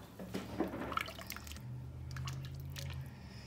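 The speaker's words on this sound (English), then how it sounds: "Okay, and I filled up one of the cans with water." A can of water pours into a pot of taco chili, giving a soft splashing and gurgling that settles into a low steady simmer, close and fairly quiet.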